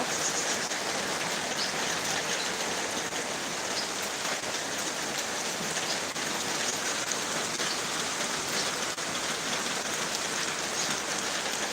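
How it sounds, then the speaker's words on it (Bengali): Heavy rain pours down in a constant, dense hiss that stays even and loud from start to finish, with no voices. "আমার এখানে প্রচুর বৃষ্টি হচ্ছে তাই তোমাদেরকে একটু দেখাচ্ছি"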